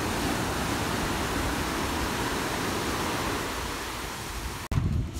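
Sea waves at the Thalassery sea pier make a loud, steady broadband roar that is nearly constant throughout, broken by a sharp dropout just before the end.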